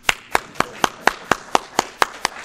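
Audience clapping in unison at a talk on California secession and federalism: about ten evenly spaced, sharp claps in a steady rhythm, fairly close and moderately loud, with no talking over them.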